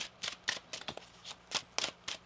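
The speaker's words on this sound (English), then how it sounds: "One more shuffle here." Tarot cards are shuffled in several quick riffling bursts with short pauses between them, close and soft, with no one speaking.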